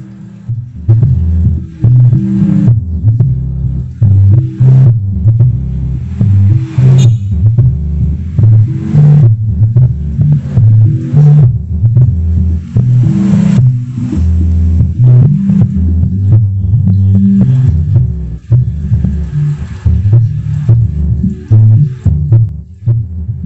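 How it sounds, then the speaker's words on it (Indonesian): A subwoofer fed through an Axl Audio SC203 active three-way crossover with its gain raised pumps loud, continuous throbbing bass music, heavy and dense throughout with a steady rumbling low end. "ini suara subwoofernya cuy"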